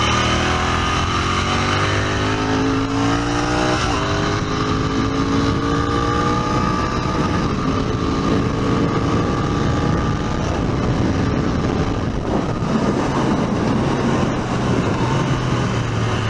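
A Royal Enfield Continental GT 650 motorcycle accelerates downhill, its loud, steady engine drone rising in pitch through the gears for the whole stretch, with wind rush underneath.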